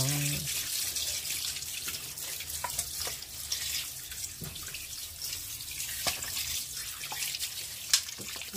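Tap water runs steadily into a sink while pork bones, head and tail pieces for sinigang, are rinsed, with occasional clinks and splashes rising over the continuous flow.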